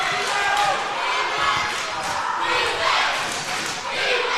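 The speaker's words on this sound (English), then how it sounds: "Now the Milbank crowd getting into it" The Milbank crowd cheers and roars at a girls' high school basketball game against the Wahpeton Lady Huskies, a loud, swelling wash of noise in a gym with a commentator talking over it.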